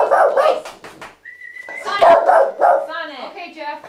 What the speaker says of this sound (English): then you're gonna get the dogs barking